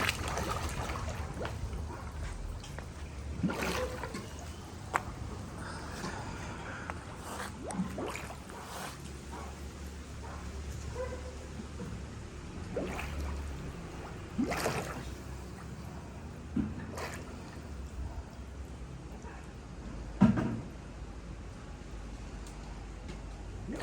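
A sidemount scuba diver breathes underwater through a regulator, with soft bubbling exhalations and gurgles at irregular intervals, several sharper bursts of bubbles, and a faint low background hum.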